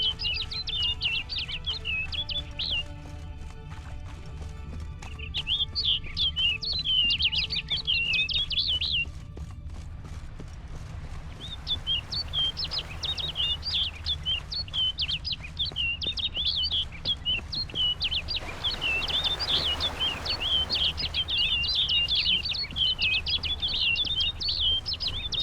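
A bird in The Witcher 3: Blood and Wine sings bright, warbling trills in repeated phrases, some brief gaps between bursts, over a low steady ambient hum.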